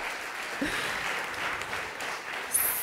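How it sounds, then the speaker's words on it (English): Audience applause at a burlesque festival pre-show, a dense wash of clapping that holds steady throughout with a brief sharper burst near the end. "Everybody, give a round of applause for my friend in the back."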